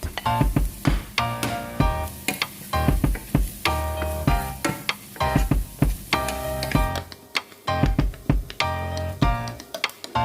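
Onions frying in a hot pan for a chicken biryani with cauliflower rice, a steady sizzle broken by repeated clinks and taps of a utensil stirring against the pan.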